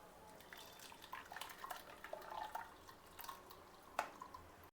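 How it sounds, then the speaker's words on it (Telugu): Coconut milk is strained through a strainer into a bowl, with faint, quiet trickling and irregular soft drips and small clinks spread across the few seconds. "తర్వాత ఒక బౌల్ తీసుకొని ఆ కొబ్బరి పాలను ఫిల్టర్ చేసుకోండి."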